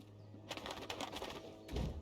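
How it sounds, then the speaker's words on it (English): Wings of a talking bird flap in the Dreamfall Chapters video game, a soft fluttering burst heard twice over a steady low hum, the second burst louder and closer. "there are still talking birds flapping about"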